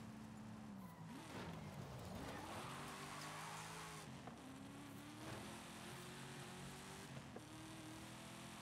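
A Toyota Supra's engine in Forza Horizon 5 revs steadily and loudly, its pitch climbing and dropping back several times as gears shift, with brief tire noise.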